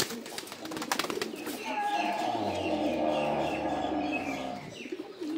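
A pigeon gives a long, low, rolling coo close by after a few sharp taps and clicks, with faint chirps around it.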